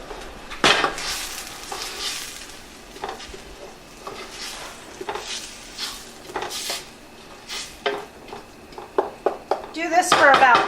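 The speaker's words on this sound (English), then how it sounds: "I just saute them gently to mellow out the flavor of the onion and to soften it, as well as the garlic" Onions and garlic are sauteed gently in a pot, giving soft sizzling and occasional spoon scrapes and clinks while a person talks over most of it, with louder clattering toward the end.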